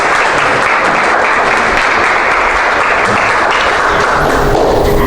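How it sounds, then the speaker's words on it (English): Dense, steady clapping from a crowd fills the whole stretch, loud and sustained without letup. "Let's give another round of applause."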